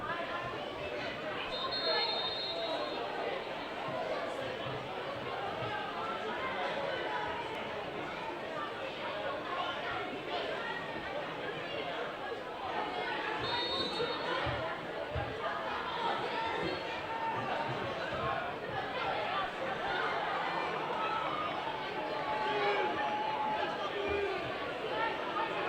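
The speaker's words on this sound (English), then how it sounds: "It's certainly a rowdy little crowd out there." A rowdy crowd of young children chattering and shouting close by at an England versus Wales under-18 football match, a steady dense babble of many small voices that carries on throughout.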